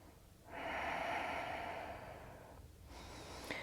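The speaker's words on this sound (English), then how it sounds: "2 full breaths here." Deep, full yoga breathing: one long audible inhale-exhale through the nose lasting about two seconds, then a second breath beginning, close and alone.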